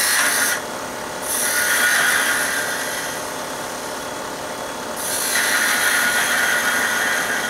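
Wood spinning on a lathe while a spindle gouge cuts a Christmas ornament, giving a steady rushing, scraping hiss that swells in passes, eases for a moment near the start and again midway, then returns strongly.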